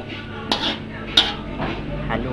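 Sotanghon glass noodles being stirred in a hot pan after onion and garlic were sautéed, with several sharp utensil scrapes and clinks against the pan over a low background hum.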